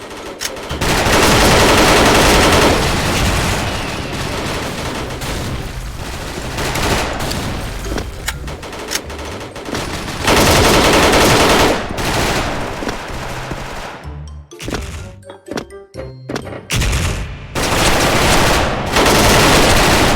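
AUG A3 assault rifle firing full-auto in the mobile shooter Standoff 2: long, loud bursts of rapid gunfire with brief pauses and scattered single shots and clicks between, with no talking over it.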